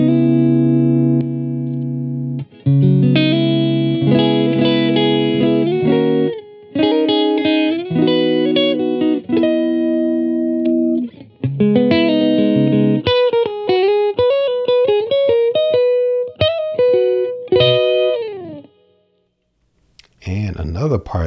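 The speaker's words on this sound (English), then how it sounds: "I'm about to kind of split the coils and make it a little more brighter" Bright, clean electric guitar with split coils playing chords and single notes, sustained then rhythmic, close and loud with short pauses.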